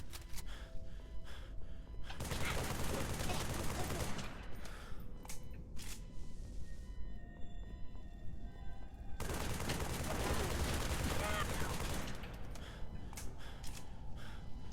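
Automatic gunfire in Halo 3: ODST at night, shooting Covenant grunts on Mombasa streets, with two loud sustained bursts separated by quieter stretches of squeals, grunts and combat noise.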